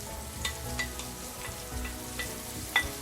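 Two medium chopped white onions fry in a pan, a steady close sizzle broken by a few light stirring scrapes and one sharper clink near the end, no voices.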